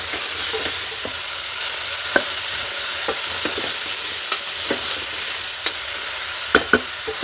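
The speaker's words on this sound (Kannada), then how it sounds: "ಸ್ವಲ್ಪ ಫ್ರೈ ಆಗಬೇಕು" Frying in a pan with stirring for a Karnataka-style avarekalu kootu, a steady close sizzle with scattered clicks and scrapes of the spoon against the pan, no voices.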